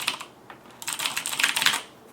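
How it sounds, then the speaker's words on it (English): Keys clatter on a Razer BlackWidow Tournament mechanical gaming keyboard, starting as a few scattered clicks and then becoming a fast, dense run of typing, close up and crisp. "I like the clickiness of the mechanical"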